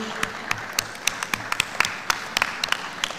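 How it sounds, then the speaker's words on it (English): Sparse, separate claps from a conference audience at a tech event in Africa, with individual hand claps standing out as distinct sharp hits over a low room murmur rather than forming a full ovation. "A warm round of applause for Ademola Idris Idowu."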